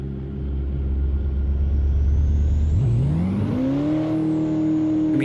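A low race car engine rumble rises steadily in pitch as the motor revs up, then holds a sustained higher whine, close and loud with no talking, from a McLaren racing car in the game Assetto Corsa.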